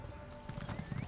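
Horse hooves clip-clop in a steady trot inside the video game Elder Scrolls Online, with a faint whinny-like tone and game ambience underneath.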